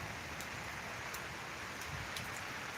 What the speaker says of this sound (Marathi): वरुण राजा कोसळलेला आहे आणि या ठिकाणी पावसाचा लोट वाहत आहे